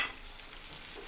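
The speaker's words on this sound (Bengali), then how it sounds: "এটাকে আমি একসাথে ভাজা ভাজা করে নিব।" Dried lotte fish fries in a pan with onions and ginger paste, giving a soft, steady sizzle that carries on evenly and alone, with no talking.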